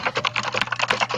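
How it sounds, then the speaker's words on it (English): Loud, rapid computer keyboard typing with dense clattering keystrokes in an uneven rhythm, close and prominent, carried over a live voice chat. "That's Travis with the loud keyboard."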